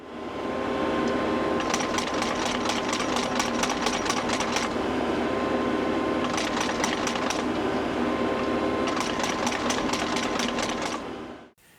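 Tractor engine running steadily throughout while metal T-posts are driven into rock-hard field ground, with bursts of rapid metallic clattering from the post driver repeating in three separate runs over the constant engine drone.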